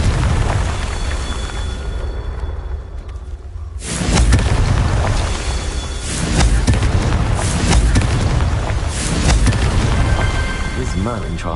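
Confringo spell explosions in the Hogwarts Legacy video game, loud booming blasts with heavy low rumble, one bursting in near the four-second mark and others rolling on in dense, continuous waves.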